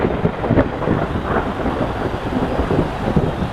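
Rain and rolling thunder halt a World T20 final cricket match between India and South Africa in the video game WCC3, a steady downpour with low rumbles and no talk.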